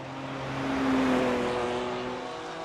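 A Corvette GT2 with a V8 engine in the iRacing sim at the Nürburgring 24 Hours rises and falls in a smooth, low, tonal drone that swells to a peak midway and then fades, with no talking.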